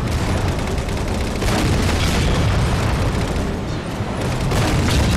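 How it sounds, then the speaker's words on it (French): Tank shell explosions from a Scorpion tank in the Halo 4 multiplayer video game, a dense continuous roar of booming blasts and bursts that stays loud and close throughout, with no voices. "Un triple frag avec 2 obus de tank."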